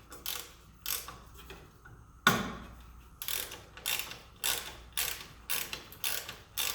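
Self-tapping bolt driven by hand into a guard on a 2018 Can-Am Maverick X3 XRC, a series of close, sharp ratcheting clicks in short regular bursts with one louder knock partway through.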